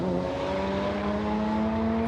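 A turbocharged rotary-engined Toyota Corolla with a manual gearbox revs steadily at a drag race at Palmyra Raceway, a close, continuous buzzing engine note with rising pitch and no talk.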